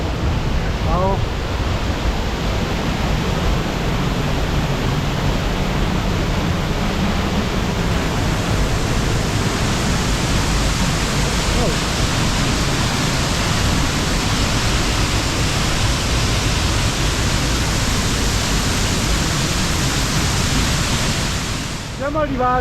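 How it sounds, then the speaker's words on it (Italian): The Fanes waterfall near Cortina d'Ampezzo in the Dolomites, a loud, constant roar of falling water that fills the scene from start to finish, with faint voices heard under it near the end. "Siamo arrivati alla cascata."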